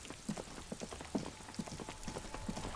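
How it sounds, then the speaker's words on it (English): Rain falls outdoors in Disco Elysium, a steady patter with scattered heavier drops tapping on hard surfaces, close and constant, with no voices. "It's a bit too noisy out here with the rain."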